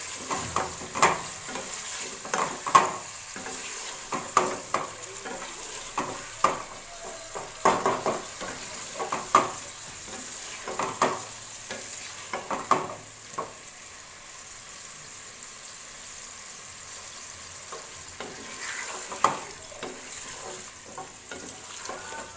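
Kachnar (orchid tree bud) and meat curry sizzles and fries in a pan with occasional scraping stirs of a spoon, a steady hiss running underneath throughout.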